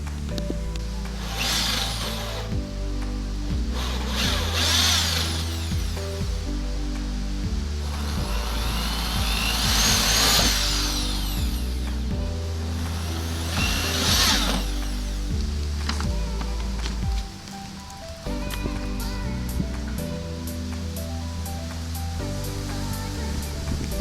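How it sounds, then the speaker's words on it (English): A power drill whines in repeated bursts, rising and falling as it bites into the metal body of a Corvette Stingray, with clicks and clatter between runs. "be able to drill the rest of these into the side of my car"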